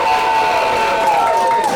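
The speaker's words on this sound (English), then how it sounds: "can we get a big round of applause?" A crowd claps and cheers loudly for a brief moment, with a whistle-like tone riding over the noise.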